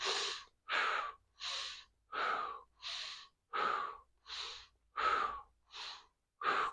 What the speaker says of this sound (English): It's a good idea to match your breathing to the movement here.